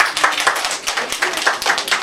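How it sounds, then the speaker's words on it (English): Audience at a child's fifth birthday party in Wayne, New Jersey, clapping hands together in a quick, steady, fairly close rhythm, with no talking. "you got to clap your hands"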